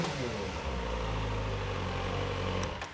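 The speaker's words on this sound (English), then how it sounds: "Now we're gonna go ahead and start up both motorcycles just so you get a sense for how they sound." Kawasaki ZX4RR inline-4 motorcycle engine running close by, giving a steady, dense idle hum that holds level for a few seconds before it eases off slightly.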